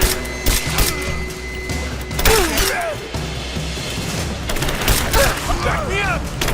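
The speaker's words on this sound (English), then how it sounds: "Open fire! I'm taking fire!" Gunfire and impacts erupt in a firefight in the video game Rise of the Tomb Raider, bursts of shots and booms recurring throughout amid mechanical clatter, with voices shouting over the action.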